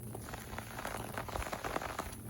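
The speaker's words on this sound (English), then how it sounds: "we're loving the rain right now" Steady rain falls on a farm with ducks nearby, dense close patter of drops striking surfaces with occasional louder splats, continuous and unbroken, no voices.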